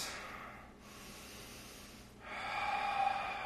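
Deep slow breathing during a yoga flow, a long soft exhale followed by a stronger, louder breath drawn close to the microphone, with no talk.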